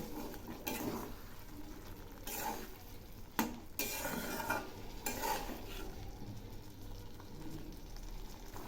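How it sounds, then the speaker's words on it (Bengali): Mustard paste and tamarind stirred in a pan with water, soft scraping and clinking of a utensil over a gentle bubbling sizzle, fairly quiet and close. "এখন আমি এগুলি নেড়ে দিচ্ছি"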